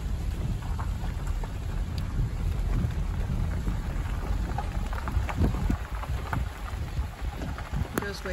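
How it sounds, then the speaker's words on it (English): Rain falling on a lake surface makes a steady dense patter with scattered sharper drops and a low rumbling background, no talking. "The rain's pretty on the water."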